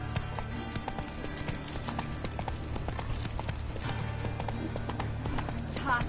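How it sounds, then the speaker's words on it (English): A horse's hooves clip-clop in a steady walking rhythm in The Witcher 3, close and clear over a low ambient game background, with a brief whinny-like sound near the end. "Come on, Roach."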